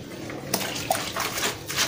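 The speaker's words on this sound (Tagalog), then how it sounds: "Mahina nga yung ano guys eh, yung flow ng tubig" Thin, weak stream of water running from a tap during laundry washing, a steady low hiss with a few soft splashes and drips across the whole stretch.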